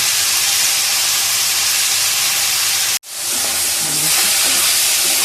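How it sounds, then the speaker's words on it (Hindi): Minced meat (qeema) fries in a pan of oil, a loud, close, continuous sizzling hiss that cuts out sharply for a moment before resuming just as strongly, with no voices over it. "ये उसी ऑयल में मैंने कीमा फ्राई कर रही हूँ जिसमें मैंने वो किया था"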